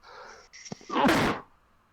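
One sharp sneeze sounds close up, preceded by a brief breathy intake, during a casual indoor conversation.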